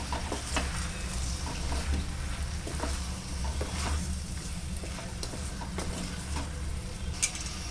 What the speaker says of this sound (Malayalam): ഞാനിതിലേക്ക് കുറച്ച് ഗരം മസാല ചേർത്ത് കൊടുക്കുന്നത്, പിന്നെ കുറച്ച് പെപ്പർ പൗഡർ, നല്ലപോലെ ഒന്ന് മിക്സ് ചെയ്യാം